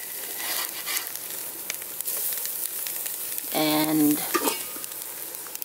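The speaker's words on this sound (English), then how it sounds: "So I'm gonna sear it." Turkey tenderloin sears on a barbecue grill at an RV campsite, giving a steady, close sizzle throughout, with a brief tonal hum rising partway through and a short spoken word.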